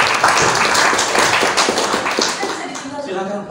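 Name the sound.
audience applauding for Mbak Olin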